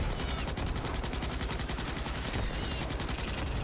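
Sustained automatic weapon fire from Starship Troopers: Extermination, a steady, loud rapid stream of shots filling the whole stretch with no pauses.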